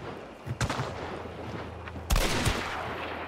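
Gunfire in Hunt: Showdown, with two sharp loud shots about a second and a half apart, each trailing into a rumbling echo over a quiet low background.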